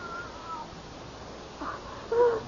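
A cat gives a couple of short meows in an old-time radio mystery drama, moderately close over a faint hissy background, the last one louder and more drawn out.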